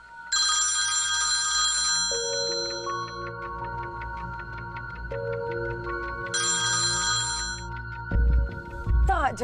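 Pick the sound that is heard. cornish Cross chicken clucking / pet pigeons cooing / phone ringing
phone ringing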